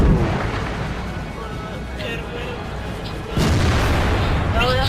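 Tank cannon fire in World of Tanks, with a heavy booming blast near the end that cuts sharply over a continuous rumbling battle bed; talk runs alongside.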